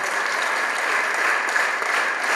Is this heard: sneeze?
no